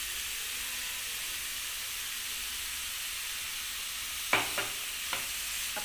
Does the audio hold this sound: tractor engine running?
no